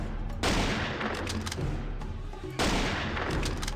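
Dense gunfire rattles through a shooter set in Jurassic Park Hunter Legends, with loud sustained bursts of shots in two heavy volleys separated by a brief lull, close and continuous.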